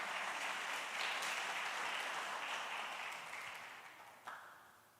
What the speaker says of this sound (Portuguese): palmas para...